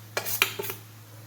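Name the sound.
mixing bread crumbs and coconut in a bowl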